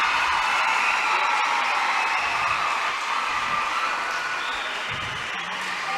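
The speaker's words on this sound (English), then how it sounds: "Why don't you show them some applause?" Steady applause from an audience at a STEM quiz competition fills the whole stretch, a dense wash of clapping with faint crowd noise, easing off slightly toward the end.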